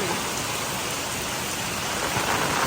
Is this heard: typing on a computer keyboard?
no